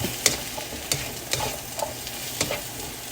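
Mushrooms stirred in a frying pan, a spatula scraping and tapping the pan in a loose rhythm of about six strokes over a continuous soft sizzle, close and without talk.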